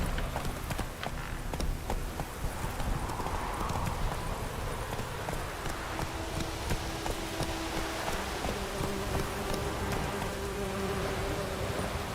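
A horse gallops in The Witcher 3, a dense steady patter of hooves blended with a buzzing insect-like drone and ambient game sound, continuous and fairly loud throughout.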